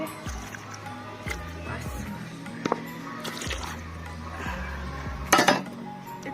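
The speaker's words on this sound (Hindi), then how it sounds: "पानी ज़्यादा नहीं डालेंगे, पानी थोड़ा सा भी डालेंगे" Water poured into a cooking pot holding potatoes in a home kitchen, a low liquid rush with scattered metallic clinks and a sharper clatter near the end, under a background hum; a voice speaks one brief word.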